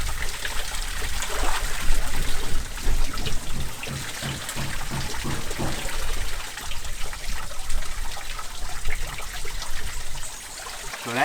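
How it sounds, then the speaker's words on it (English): Water runs steadily from an outdoor tap in Saint Lucia, a continuous broadband rush and trickle that stays fairly loud and even throughout, with no voices over it. "This water doesn't stop flowing."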